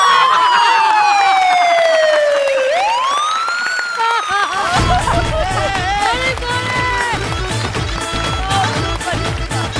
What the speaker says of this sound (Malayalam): ആംബുലൻസ് ഇവിടെ.